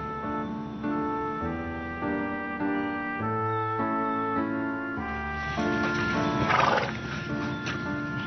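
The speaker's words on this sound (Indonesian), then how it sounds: "Kuda memiliki naluri yang sangat kuat." A horse whinnies amid steady tonal music, the neigh rising near the end over the continuous score with no talking.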